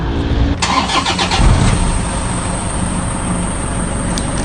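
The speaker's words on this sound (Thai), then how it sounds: "พอครบ 3 นาทีแล้ว สตาร์ทเครื่องได้เลยค่ะ" A Toyota Vigo pickup, which has trouble stalling right after starting, cranks briefly and catches, then settles into a steady close idle.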